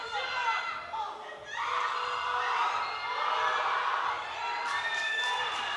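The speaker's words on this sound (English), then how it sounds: "The Israeli crowd shouting for her." An Israeli crowd at a powerlifting championship shouts and cheers for a lifter during her final deadlift, a continuous roar of many voices from the stands with whoops rising and falling, fairly distant, with a few sharper high shouts near the end.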